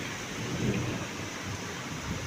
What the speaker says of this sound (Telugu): ఇదిగో బోలెడన్ని ఉరుములు మెరుపులతో